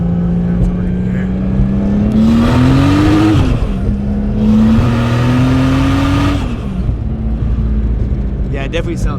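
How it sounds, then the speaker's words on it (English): A turbocharged 2JZ engine swapped into a Mustang revs twice, its pitch climbing and falling with a rushing turbo wastegate hiss over each rev, heard from inside the car with a steady engine drone between. "You ready to hear some wastegate?"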